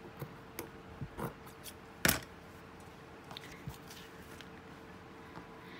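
Scissors cutting a piece of lace, with a few quiet snips and one sharper, louder cut near the middle in a quiet room.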